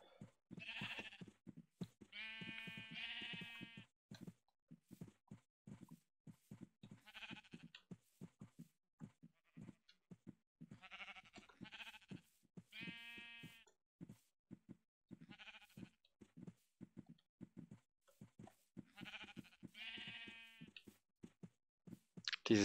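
Repeated sheep bleats from Minecraft come in bursts, several calls in a row separated by pauses, fairly close and clear with no talking over them.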